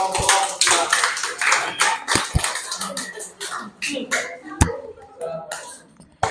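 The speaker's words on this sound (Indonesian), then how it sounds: "Oke, tepuk tangan buat kelompok" Schoolchildren in a classroom clap for a group that just presented: scattered, uneven hand claps with sharp individual smacks, mixed with children's voices and shuffling, thinning out toward the end.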